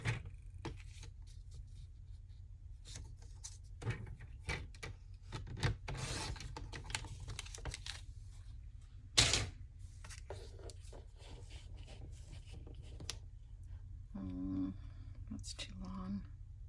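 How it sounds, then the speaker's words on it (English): Newsprint paper being cut for a postcard, heard as scattered close rustles, crinkles and short snips with quiet gaps between them, over a low background rumble. "I'm going to cut it the same width as this."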